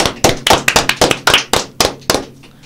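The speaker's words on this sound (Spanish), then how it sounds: "Aplauso para la Dami." A few people clap for a guest on a Dominican talk show, about a dozen loud, close, uneven claps that thin out toward the end.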